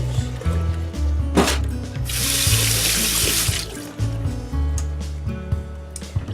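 Soaked almonds are rinsed under a running kitchen tap, with a steady splash of water into a sink and the nuts rubbing and clattering against the container.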